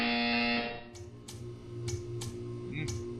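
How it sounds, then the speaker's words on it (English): Buzzer sounds in the Portal 2 test chamber: a steady electronic tone that cuts off, followed by four or five short, evenly spaced pulses over a low hum, with no voices. "You will hear a buzzer. When you hear the buzzer, stare at the art."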